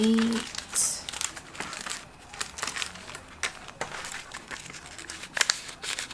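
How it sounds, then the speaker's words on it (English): Paper money bills being folded in half and handled, giving soft close crinkling and rustling in short bursts, with faint speech in the background. "So you can fold your bills in half, which is nice."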